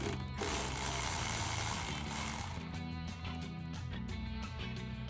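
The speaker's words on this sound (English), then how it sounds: "I'm gonna take my 8mm on my electric ratchet here, loosen up our clamp" Electric ratchet with an 8mm socket loosening a clamp on a 1996-2004 Mustang intake, close-up mechanical whirring and rapid ratcheting clicks, a brief burst at the start then a steady buzzing run.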